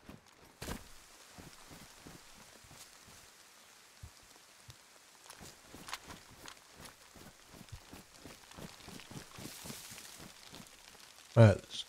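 Steady rain falling in the video game DayZ, a soft continuous patter with scattered louder drops and footsteps, ending in a brief loud thump.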